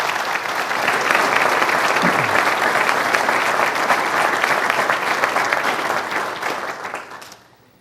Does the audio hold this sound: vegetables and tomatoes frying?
no